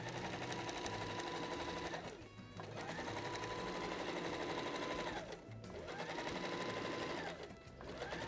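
A sewing machine with a standard presser foot stitches a watermelon-shaped pencil case in three steady bursts of rapid mechanical whirring, each separated by a brief pause, close and clear with no talking.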